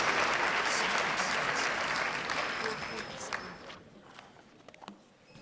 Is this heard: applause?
yes